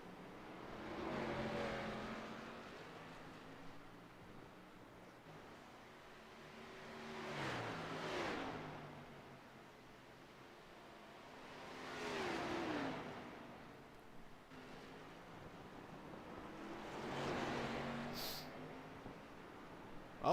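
Race cars in a simulated NASCAR Xfinity series race sweep past one after another, engines swelling and fading in regular passes at a distance, fairly faint, with no talk over them.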